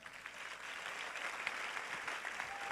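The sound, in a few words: audience applauding for Jesus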